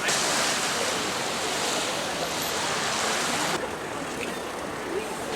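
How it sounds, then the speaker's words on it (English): Waves splashing against the riverbank in Lisbon, Portugal, a continuous loud wash of churning water with steady surging hiss, heard close and alone, easing slightly toward the end. "listening to the waves splashing on the shore"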